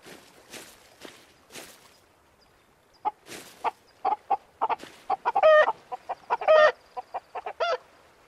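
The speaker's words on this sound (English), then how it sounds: "Chickens are running rampant." Chickens clucking and squawking in the early-access survival crafting game Hold Your Own, a burst of short clucks and cackles coming in quick clusters, with soft footsteps before them and no voices.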